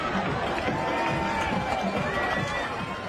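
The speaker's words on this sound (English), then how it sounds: "this Vanderbilt Catholic crowd excited about that one" Vanderbilt Catholic home crowd at a Louisiana high school football game against Lutcher roars after a big play, a dense, sustained wash of cheering and shouting with mixed voices throughout.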